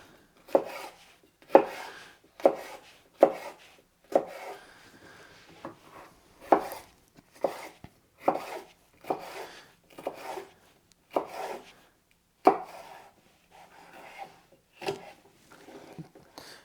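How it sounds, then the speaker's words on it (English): Long peppers are sliced into strips on a cutting board, with a knife striking the board in about fifteen crisp, evenly spaced chops close up and no voices. "And then cut them into long strips."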